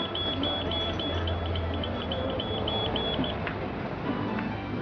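A shop security alarm goes off, a rapid, high electronic beeping pulsing repeatedly over a steady background hum, then stopping partway through.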